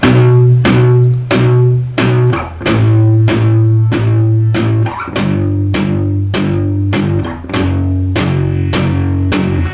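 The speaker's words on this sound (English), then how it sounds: "apply that palm muting technique now to the little power chord sequence" Palm-muted electric guitar power chords chug in steady groups of four, shifting between chord shapes, tight and percussive with no voices, played at a moderate pace before speeding up to punk rock tempo.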